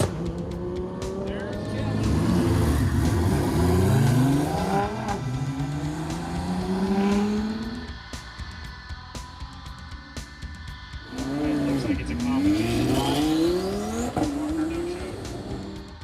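Race cars at the Texas 2K 2020 racing event, engines revving and roaring loudly nearby, rising and falling in two long pulls with tire noise, while someone talks.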